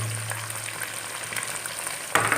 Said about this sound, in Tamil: இந்த வெங்காயம் வந்து கொஞ்சம் ப்ரௌன் ஆகிற வரை இந்த வெங்காயத்தை நல்லா வதக்கணும்